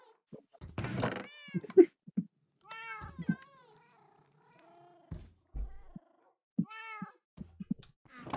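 Several Minecraft cats meow repeatedly in short, high, clear calls spread across the stretch, fairly close, with quiet pauses between them.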